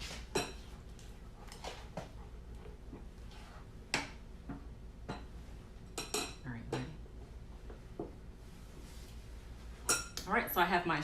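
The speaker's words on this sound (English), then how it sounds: "I'm just gonna push this right through the strainer here." Pudding is pushed through a metal kitchen strainer in a home kitchen, making faint scraping and clinking of utensil against mesh and bowl, with scattered clicks over a low background hum.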